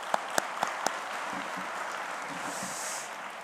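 Applause of thanks from a gathered audience for the secretary general at a New Year's Day prayer meeting, a few sharp claps at first and then a steady, dense wash of clapping that holds at moderate loudness.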